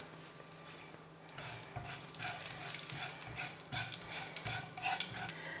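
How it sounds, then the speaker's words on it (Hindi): Nigella seeds and white sesame seeds frying lightly in a pan, a soft continuous crackle and sizzle with occasional stirring scrapes, faint and close with no talk. "अब इन सारी चीज़ों को करेंगे फ्राई।"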